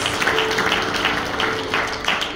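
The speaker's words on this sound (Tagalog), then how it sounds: "Come on, palakpak sa Kanya." A church congregation applauding, a steady wash of many hands clapping with a faint sustained tone underneath.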